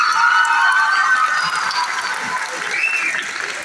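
Sustained audience applause at a school annual prize distribution ceremony, a steady, dense crowd clapping that stays loud throughout with no clear pauses.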